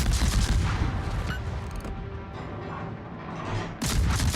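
Heavy naval guns in a warship video game fire in a dense, rumbling barrage of booming volleys, loud and close, easing into a lower rumble before a fresh blast near the end.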